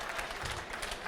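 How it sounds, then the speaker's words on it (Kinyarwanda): Brief burst of applause from a comedy show audience, a dense wash of many hands clapping at a moderate distance, steady throughout with no clear voices. "amashyi menshi cyane twakire"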